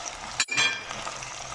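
Shrimp frying in a pan as onion and hot and sweet peppers are tossed in, giving a quick burst of sizzling and a clink of stirring, then a soft steady fry.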